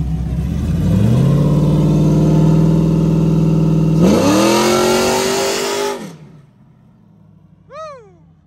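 A race car with a high-stall torque converter revs loudly to about 2200 rpm on the foot brake and holds, then roars higher as it launches and accelerates away, cutting off abruptly; a brief chirp follows.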